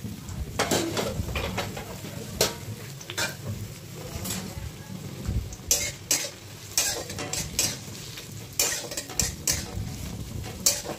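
Four medium sliced onions frying for Afghani chicken pulao, with a sizzle under frequent clattering spoon strokes against the pan, close and busy throughout.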